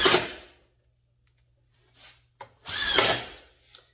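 A power drill drives screws into cedar fence pickets in short, close whirring bursts, one at the start and a longer one near the end, with brief quiet gaps and faint clicks between.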